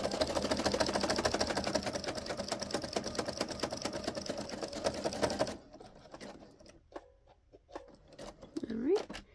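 A sewing machine stitches a jelly roll rug in a fast, steady mechanical whir with rapid needle clatter that stops abruptly partway through, followed by a few quiet handling sounds.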